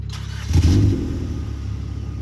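A Mitsubishi Lancer Evolution X engine cranks and catches with a sudden burst, briefly revs, then settles into a steady low idle close by.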